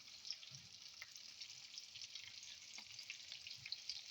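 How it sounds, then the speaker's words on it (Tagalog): Tortang talong, an eggplant omelette with tomato slices, sizzles in a frying pan with a steady hiss of hot oil, crackling pops and a few soft scrapes from stirring. "fry na tayo ng talong, tortang talong with slices of tomatoes"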